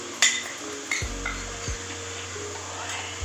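Spices stirred and sautéed in a pan for a crab curry: a metal spoon clanks and scrapes against the pan several times over a steady soft sizzle.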